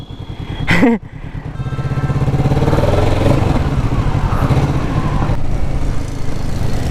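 A Kawasaki Ninja motorcycle engine runs steadily and fairly close, a sustained idle-to-rev drone after a brief sharp noise at the start, with no talking.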